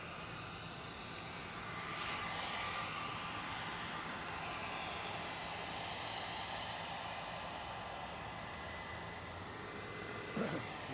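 An airliner taking off at Edinburgh Airport, a distant steady jet rumble that swells slightly then holds, faint and continuous throughout.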